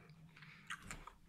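Someone chews a persimmon close up, giving a few soft wet bites and crunches in a short, quiet stretch with no talking.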